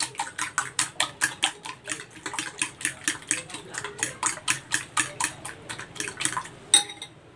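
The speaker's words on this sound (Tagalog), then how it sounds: "Then, haluin natin." A utensil stirs a seasoned egg mixture of egg, salt and pepper in a bowl. The sharp clicks come close together in a quick, regular rhythm for several seconds, fairly close and clear.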